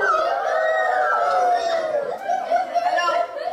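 A child imitates an owl hoot with the voice, a drawn-out wavering howl-like call lasting a few seconds, fairly close and alone.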